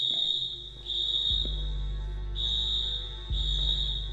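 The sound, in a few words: blaring school fire alarm in Senior Sunset video game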